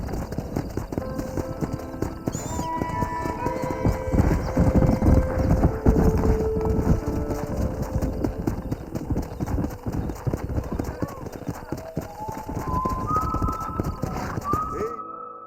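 Horses in the Red Dead Redemption video game, with steady clip-clop hoofbeats trotting close by, a couple of neighs, and game music and voices underneath.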